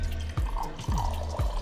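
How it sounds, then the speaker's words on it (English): Strained juice is poured from a shaker into a glass: a close, trickling stream with a few bright dripping, plunking splashes in quick succession and no voices. "so we can pour the juice onto our glass."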